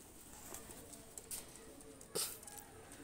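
A breeding pigeon gives faint, soft coos against a quiet background hiss, punctuated by a couple of brief sharp taps or flutters, all distant and low in level.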